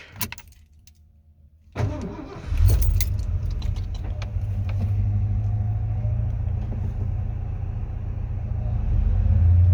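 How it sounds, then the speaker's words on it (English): Ford F250 truck from 1990 with a 460 engine cranks with a key jangle, then catches and settles into a loud, steady, rumbling idle that continues to the end. "Let's go ahead and start the truck."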